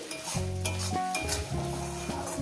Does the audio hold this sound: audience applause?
no